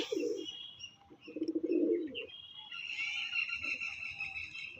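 Loft pigeons kept for sale give short bursts of low throaty cooing, close by, followed by a lingering higher tonal hum from the flock.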